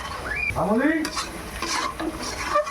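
Chicken curry sautéed in a pan, a spoon stirring and scraping through the thick masala over a steady close sizzle, with no talking.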